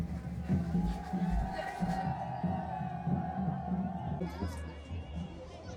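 Crowd at a local village fair ground in Himachal Pradesh, a steady babble of many voices with shuffling and children calling out, while someone talks nearby.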